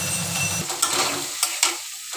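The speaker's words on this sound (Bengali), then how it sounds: "আমার পেঁয়াজটা ভাজা ভাজা হয়ে এসছে এবং মজেও গেছে" Onions fry with salt and turmeric in a pan and are stirred, a close sizzle broken by a few sharp scraping strokes of the spatula.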